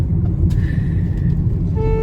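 Steady low road rumble of a car driving on a road trip through Rajasthan toward Jaisalmer, constant and close from inside the cabin, with a brief tonal whine near the start and a faint horn-like tone at the end.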